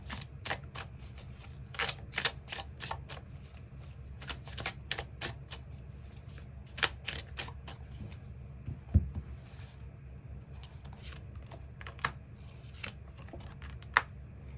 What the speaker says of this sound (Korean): 추가 카드로 이번 25년 하반기를 더욱더 긍정적으로 보내기 위한 조언의 카드 무엇이 있을지 추가 카드 뽑아보도록 하겠습니다